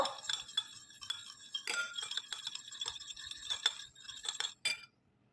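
Sour curd being stirred into paneer tikka masala with a metal spoon, repeated light clinks and scrapes against the bowl in an irregular rhythm, close and fairly quiet, with no voices.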